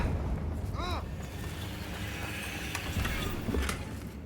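Confringo, a fire spell cast in Hogwarts Legacy, lets off a whooshing magical burst followed by a rumbling blast and a sustained low roar, moderately loud, with brief chiming spell sparkles early on.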